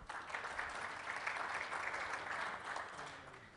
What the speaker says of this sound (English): by round of applause, team number 1.